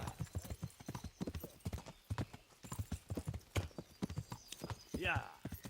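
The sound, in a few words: horse hooves clip-clopping, from video game Kingdom Come: Deliverance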